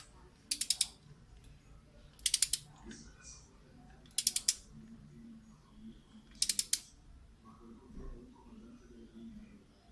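Torque wrench tightening a car spark plug, four short bursts of rapid ratcheting clicks spaced about two seconds apart, close and crisp over faint background noise.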